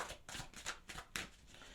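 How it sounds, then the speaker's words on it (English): Tarot cards being shuffled in a few quick riffling bursts, faint and close, with no talking. "Okay, a couple more shuffles, please"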